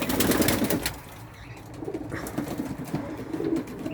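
Bango Misiri high-flying pigeons, newly arrived birds, coo repeatedly at close range with low, throaty murmurs, some soft wing flutter among them and no talking.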